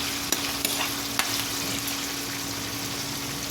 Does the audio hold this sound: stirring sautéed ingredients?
yes